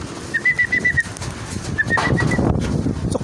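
A racing pigeon returns to its loft after a 244 km derby in Legazpi, Albay. Two short runs of soft, even cooing or whistling notes are followed by a rush of wing flapping and movement close by.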